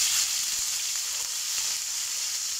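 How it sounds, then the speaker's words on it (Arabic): Liver sizzles in very hot oil, making an even, continuous hiss of frying that stays close and fairly loud throughout. "بصوا الزيت اتقلح ازاي، وانا جايبه الكبده منزله على درجه حراره عاليه"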